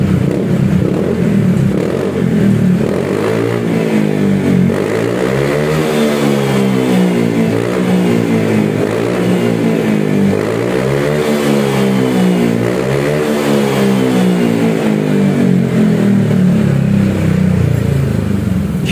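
A motorcycle engine with a stock exhaust revs repeatedly, rising and falling in pitch over a steady loud idle, close by.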